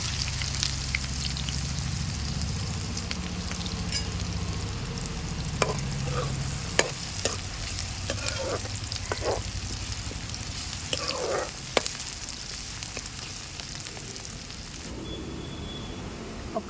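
Finely chopped large onion drops into hot oil with cumin seeds and cloves in a pan, giving a soft continuous sizzle with scattered spoon scrapes and clinks.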